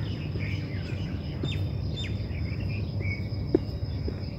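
Sparse bird chirps and short calls over a steady insect chorus, with crickets trilling continuously in an outdoor morning setting.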